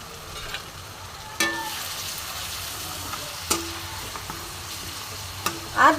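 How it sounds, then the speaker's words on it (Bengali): Spoon stirring sour yogurt into a cabbage and chhena kofta curry in a pan, with soft sizzling throughout and a few distinct scraping knocks against the pan. "এবারে তো আমি একটু টক দই মেশাবো।"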